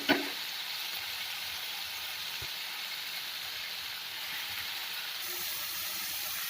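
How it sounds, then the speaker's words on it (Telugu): Tomatoes, green chillies and cabbage leaves fry in a tablespoon of oil, making a steady, bright sizzle that holds evenly throughout after a brief clatter at the start, close and fairly loud with no talking. "1 టేబుల్ స్పూన్ ఆయిల్ వేసి ఇదిగోండి 2 టమాటాలు పచ్చిమిర్చి వేసి వేయించుకోవాలి"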